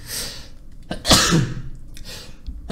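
One loud, close sneeze from a man bursts out over faint background game sound, with a quick inhaled build-up just before the sharp release.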